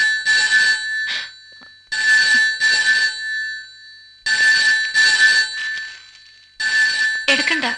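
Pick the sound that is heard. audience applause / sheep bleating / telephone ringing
telephone ringing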